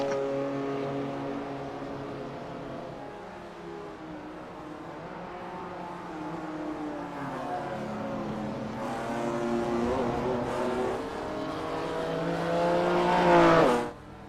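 Race cars lap a circuit during a clubsport race, engines droning steadily with shifting pitch as they head toward a chicane, swelling to a loud close pass near the end before cutting away.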